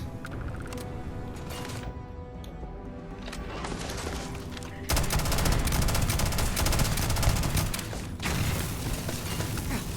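Rapid automatic gunfire from a space AK rifle in the video game Starfield, bursts of loud rattling shots that grow denser and heavier midway, continuing almost without pause.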